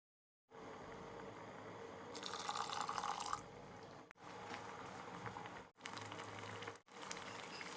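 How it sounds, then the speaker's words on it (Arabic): Boiling water poured from a pot onto a spice mixture for a fish broth, a steady close splashing pour broken by a few short pauses, with no voices. "بنضيف لتر ماء مغلي على التكشينة وبنخلط تمام الماء مع التكشينة"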